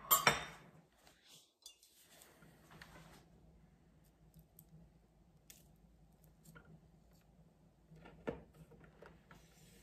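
A knife cuts a slice from a homemade cake covered in sprinkles: a brief scraping, squishy cut at the start, then soft, quiet clinks of the blade and plate, with one more small tap near the end.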